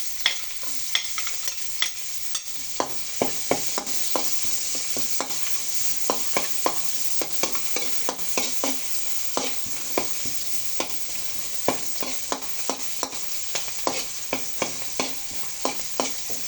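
Garlic and onion sautéing in a pan for ginisang sayote, a steady sizzle broken by regular scraping strokes of a spatula, close and moderately loud, no talking.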